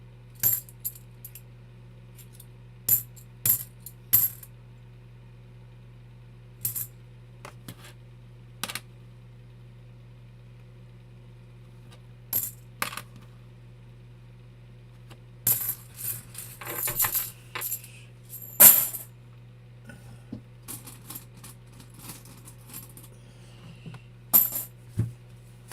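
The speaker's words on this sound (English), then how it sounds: "Listen to the coins." Half dollar coins drop and clink against one another in scattered bursts while a box is searched by hand, with a steady low hum running beneath and no talk.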